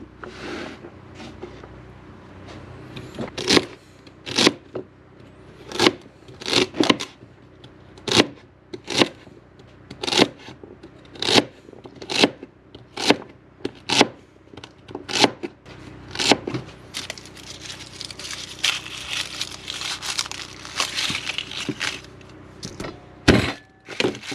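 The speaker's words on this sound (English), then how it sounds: "Some of these are a little bit big, so I just chop them down." A knife chops vegetables for moose stew on a cutting board in a steady run of sharp, evenly spaced strokes, loud and close, with scraping and handling toward the end.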